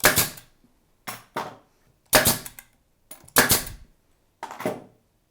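A pneumatic brad nailer fires into wood, giving six sharp, close clacks in uneven pairs with short silences between them, and no voices.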